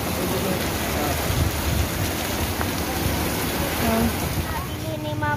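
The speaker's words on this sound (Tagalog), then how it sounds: "Kaibigan, ang lakas ng ulan yan." Heavy rain pouring down in a dense, constant roar of drops on surfaces, loud and close, with a voice talking over it.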